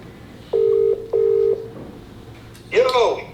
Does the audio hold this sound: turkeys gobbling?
no